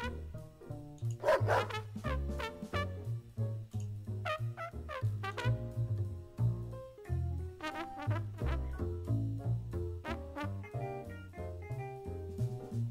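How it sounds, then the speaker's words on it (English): A puppy barks in a video game about a pizza delivery boy, a few short yips standing out over a busy, loud musical soundtrack that runs throughout. "Puppy!"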